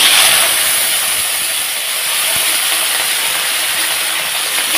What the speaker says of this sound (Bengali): এখন আলুটাকে একটু ভেজে নেব।